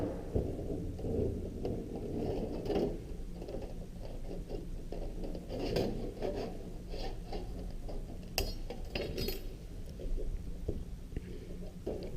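Tin snips bite through sheet metal in a series of close, sharp clicks and crunching snips at an uneven pace over a low background rumble, with no speech.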